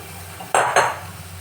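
Ivy gourd pieces tumble into a cooking pan in two quick, clattering bursts, each a brief rattle against the metal, heard close with no talking.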